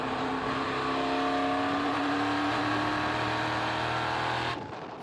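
NASCAR Chevy race cars with 5.7 litre V8 engines roar at high revs in close onboard racing at the NASCAR GP Spain, a loud steady engine note with shifting pitch that cuts off abruptly near the end.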